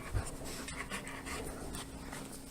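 Quick rhythmic panting from a nearby pet dog, short breathy huffs repeating steadily at close range with no talking.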